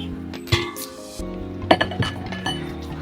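Ugadi pachadi with jaggery and banana is stirred in a dish, giving repeated close clinks and scrapes of a spoon against the vessel in an uneven rhythm.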